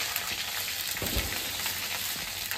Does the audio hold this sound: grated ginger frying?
yes